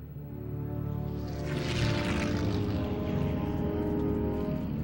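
Propeller engines of a World War II airborne transport plane on the evening of D-Day, a steady, loud droning roar that swells slightly midway and continues without a break.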